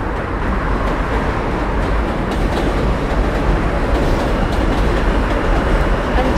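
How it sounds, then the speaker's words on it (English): A train rolls past on a New York City commute route, a loud, continuous rumble and roar that fills the whole stretch with a steady rail clatter and no pause. "Train."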